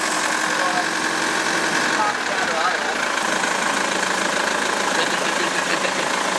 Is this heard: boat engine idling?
yes